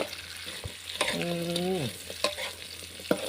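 Pork belly stir-frying with garlic and salt in a hot pan sizzles steadily up close, with a few scraping stirs of a utensil against the pan and one brief tonal squeak.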